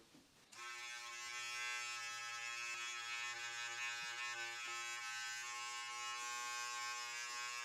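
A Philips Norelco beard trimmer buzzes close by, switching on and humming with a steady electric drone while it trims along the neckline, its tone shifting slightly as the blade moves against the hair.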